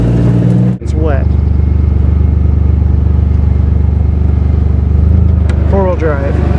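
A four-wheel-drive vehicle with a locked differential drives off-road on wet ground, its engine droning loudly and steadily close by, with brief voices at the start and end.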